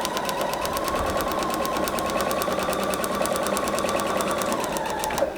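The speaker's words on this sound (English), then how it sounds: "I am going to sew once again on the line." A sewing machine runs steadily, stitching fabric along a paper piecing line for a quilt. Its needle makes a fast, even mechanical chatter that stays close and loud, with no voices, for about five seconds.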